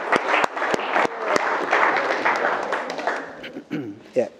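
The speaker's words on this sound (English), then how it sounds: "a big round of applause for the bridesmaids," Wedding guests at St Audries Park applaud the bridesmaids with a lively burst of clapping from a crowd, sustained through the moment while voices and chatter rise over it near the end.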